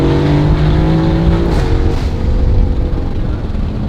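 A twin-turbo Ferrari F12 accelerates hard close by, its loud engine tone climbing steadily, dropping briefly at a gear change, then pulling again with a deep, continuous roar.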